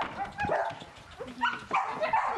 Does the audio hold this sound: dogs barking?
yes